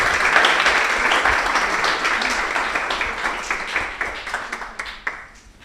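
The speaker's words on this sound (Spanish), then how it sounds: "La recibimos con un fuerte aplauso." Audience applause welcomes a speaker at a university panel on gender equality, a steady, close round of clapping from a room full of people that gradually thins out toward the end.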